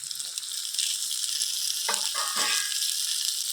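Chopped tomato and green chili sizzling in hot oil with ginger and garlic, a steady bright frying hiss with a few sharper crackles and stirring scrapes, close and alone.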